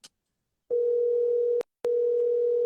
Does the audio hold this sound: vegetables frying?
no